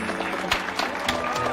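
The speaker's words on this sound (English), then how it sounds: "One more round of applause for these two kids." An audience applauds in a steady, dense burst of clapping with a few sharper claps standing out, loud and continuous throughout.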